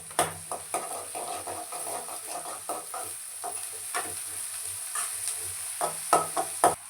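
Onions with beans and cabbage sauté in a pan under a soft, constant sizzle, punctuated by irregular, close scrapes and clicks of a spoon stirring against the metal.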